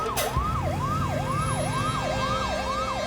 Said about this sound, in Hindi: एमिली, सबसे ज्यादा जरूरी उससे एम्बुलेंस में निकालना है।